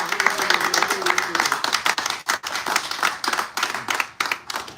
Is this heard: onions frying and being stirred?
no